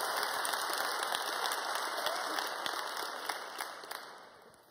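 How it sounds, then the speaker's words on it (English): A conference audience at an evening plenary session gives a sustained round of applause, dense and steady clapping filling the hall before gradually thinning out toward the end. "give him a round of applause"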